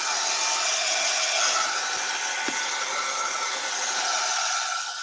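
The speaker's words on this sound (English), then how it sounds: "I'm going to get the heat gun for a minute, y'all." A heat gun blows hot air over a craft piece, giving a steady, loud, close whooshing roar that holds unbroken for the whole stretch with no one speaking.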